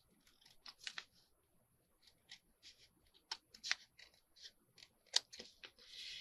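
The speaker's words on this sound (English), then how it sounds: "So I'm going to trim the book page edge off." Scissors trim the edge off an old book page: a series of small, crisp snips and paper rustles, close and quiet, in an irregular rhythm with short pauses between cuts.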